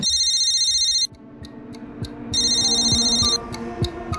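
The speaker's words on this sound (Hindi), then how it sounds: "सुबह रवि के पिता का फोन बजा" A telephone rings loudly and close in two bursts of electronic trilling separated by a short gap, over a low rhythmic throbbing background.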